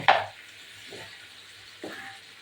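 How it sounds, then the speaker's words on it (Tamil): A spatula stirs chicken fry in a pan, making three short scraping strokes, the first loudest, over a faint background sizzle, with no talking. "கொஞ்சம் நேரம் அப்படி பக்கத்துலேயே இருந்து அதை கிண்டி விடணும்"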